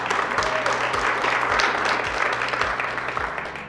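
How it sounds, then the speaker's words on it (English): Dense, sustained applause from an audience honoring County Executive Calvin Ball at a nonprofit collaborative announcement, steady and fairly loud throughout with a low hum beneath. "Let's give him a round of applause."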